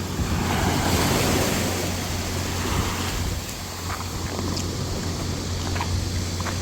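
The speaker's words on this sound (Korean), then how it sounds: "파도 소리도 상당히 크게 들립니다" Steady roar of surf breaking against a seawall on the Jeju Island shore, continuous and fairly loud, with wind rushing over the microphone and no voices.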